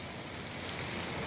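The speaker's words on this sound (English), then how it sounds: "Or the rain slacked up a little bit." Rain falls in a steady, close hiss of drops on surfaces, continuous and even throughout, with no voices.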